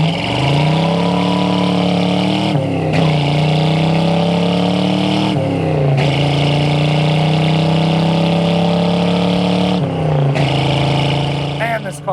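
A 1971 Ford Mustang Mach 1's original 351C V8 with a 4-speed roars through repeated acceleration runs, pitch climbing steadily then dropping at each gear change, loud and close from inside the car.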